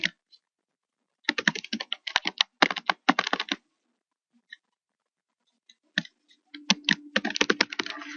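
Fingers type on a computer keyboard in quick bursts of close, crisp key clicks, with a long quiet pause in the middle before a final flurry of keystrokes.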